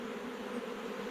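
A mass of honey bees being moved out of a tree toppled in a storm hums as a steady, continuous buzz, near and even, with no gaps and no talk.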